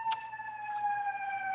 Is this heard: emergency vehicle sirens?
yes